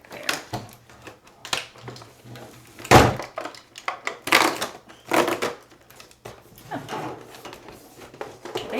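Cardboard rustling, tearing and thumping as a door on a Target 12 Days of Beauty advent calendar is opened and tightly packed items are tugged out, in irregular bursts of handling noise.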